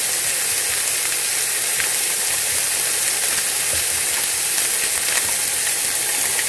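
Chipped beef in gravy mix sizzles steadily in a hot pan, a loud, continuous frying hiss close by with faint crackles and no voices.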